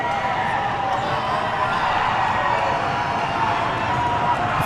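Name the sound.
loud basketball crowd cheering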